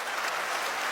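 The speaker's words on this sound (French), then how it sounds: "Non, les gens applaudissent." Audience applause at a comedy show, a continuous wash of many hands clapping at moderate loudness, brief and steady throughout.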